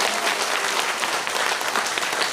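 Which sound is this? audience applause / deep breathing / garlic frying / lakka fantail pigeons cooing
audience applause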